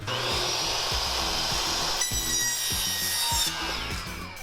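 A hand saw cutting a wood piece to length for a homemade chicken feeder: loud, close, rhythmic back-and-forth strokes, about two per second, rasping steadily throughout.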